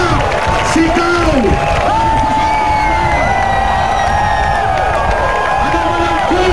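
Protest crowd cheering, shouting and clapping in a loud, continuous roar, with voices rising and whooping throughout and a leader's voice carrying over it.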